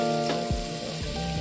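Butter melting in a pan before flour goes in for a meatless pasta sauce gives a steady close sizzle and fry, with faint stirring or scraping, no talk.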